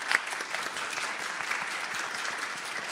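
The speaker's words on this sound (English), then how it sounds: "please give the warm applause to them" Warm audience applause for a panel of speakers at a regenerative medicine showcase event, a steady patter of many hands clapping at moderate volume with no pauses.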